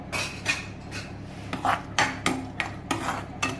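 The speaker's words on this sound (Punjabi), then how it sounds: "ਇਹਨੂੰ ਹੁਣ ਆਪਾਂ ਮਿਕਸ ਕਰ ਦਾਂਗੇ" A spoon scrapes and knocks against a metal pot while tomato chutney with lemon juice is mixed, giving about eight sharp clinks and scrapes in an irregular rhythm, close and fairly quiet, with no voices.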